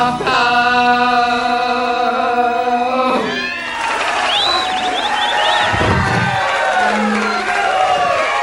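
Crowd cheering and whooping at a live show, loud and continuous throughout, with a sustained tonal sound in the first few seconds and scattered shouts and voices rising over the roar later on.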